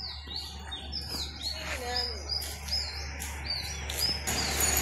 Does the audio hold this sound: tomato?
no